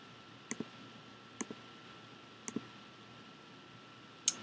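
Mouse clicks while formatting a chart axis in Excel: a few sharp, faint paired clicks spaced about a second apart, with a louder single click at the end, over a quiet room hiss.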